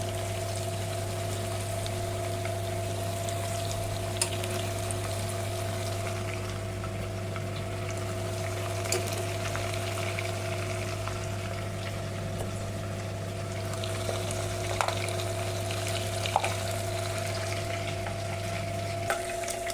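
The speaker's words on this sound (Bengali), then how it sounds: "এগুলোকে হাই আছে একটু ভাজতে হবে, খুব বেশি ভাজবো না, অল্প করে একটু ভাজা করে নিচ্ছি।" Mutton pieces fry in hot oil with a steady, even sizzle and bubbling, close and continuous throughout, with an occasional faint clink, and no talking.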